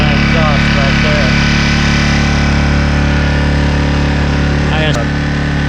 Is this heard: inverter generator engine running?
yes